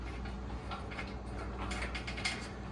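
A ratchet wrench loosening the right rear bolt during diesel engine prep, quiet clicking under a steady loud mechanical hum.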